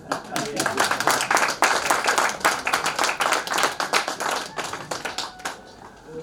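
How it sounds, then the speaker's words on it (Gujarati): A large seated audience at a stage event claps in dense, continuous applause, loud and close throughout before tapering off at the end. "મંદીના ભાવની તાળીઓ પડે એ ના ફાવે અમને"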